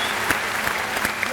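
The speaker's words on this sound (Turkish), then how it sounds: "Alkışlar Berkay'ın tam arkasındaki arkadaşlarımız" A studio audience on a Turkish entertainment show applauds, with continuous clapping throughout the short moment and a few sharper claps standing out.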